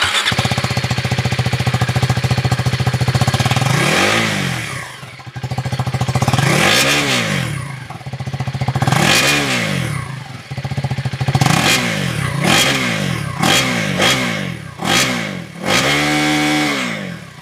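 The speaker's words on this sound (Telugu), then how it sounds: "సో ఇక లేట్ చేయకుండా మరి రైడ్ అనేది స్టార్ట్ చేసేద్దాం" A 2025 Husqvarna Svartpilen 401 motorcycle on a ride, loud and close, its engine repeatedly revving up and dropping back through the gears in rising and falling sweeps, with no talking.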